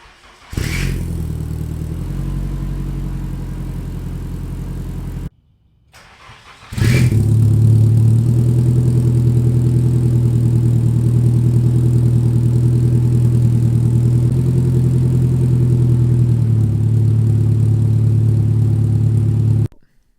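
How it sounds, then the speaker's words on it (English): A Nissan S13 engine with a loud, raspy ISR blast pipe exhaust starts, idles, cuts off, then fires up again and idles with a steady droning burble; the exhaust has a big leak. "So the exhaust sounds great"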